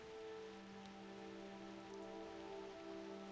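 Rain falls in a steady, faint patter on a surface, joined by a soft sustained tonal hum, from an Assassin's Creed Ezio collaboration.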